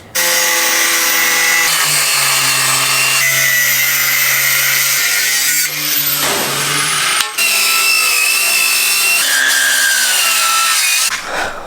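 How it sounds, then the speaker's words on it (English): A power sander grinds leftover felt off the floor of a 7.3 4x4 overland truck build with a loud, continuous whine that rises and falls slightly as the tool is pressed and moved. "I've been trying to sand off all of this felt that's still on there"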